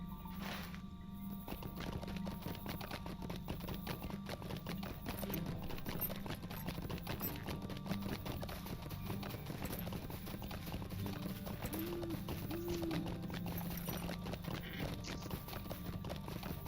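Horse hooves clip-clop in a steady, quick trotting rhythm in the Lord of the Rings Online video game, continuous and fairly faint, with a brief game sound near the start.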